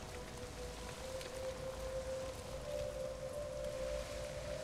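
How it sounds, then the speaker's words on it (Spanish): Rain falls steadily in the Days Gone video game, a soft constant hiss with a faint sustained tone running beneath it. "Y la lluvia no ayuda."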